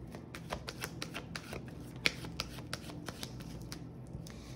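Tarot cards are shuffled by hand, a quick run of crisp riffling flicks and soft rubs with a few sharper snaps, close and quiet, with no talk.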